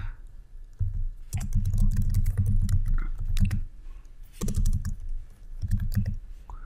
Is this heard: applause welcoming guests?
no